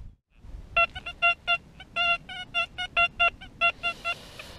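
A metal detector in XY mode sounds repeated short, bright electronic tones over a buried target in the field, a rapid irregular series of beeps, close and clear.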